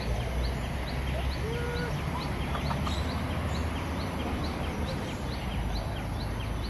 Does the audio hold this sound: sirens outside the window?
no